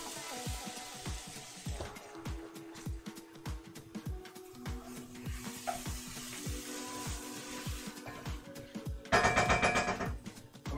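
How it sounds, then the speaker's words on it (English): Chicken pot pie filling sautéing in a pan, a constant sizzle broken by rapid rhythmic clacks of a utensil stirring against the pan, with a louder sizzling burst near the end. "Back to sauteing stuff here."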